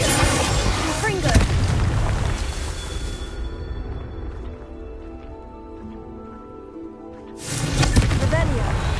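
Confringo blasting-spell explosions in the video game Hogwarts Legacy: two loud booming blasts, one near the start and one near the end, with quieter game ambience in between.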